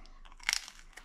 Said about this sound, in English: That crunch in that pizza.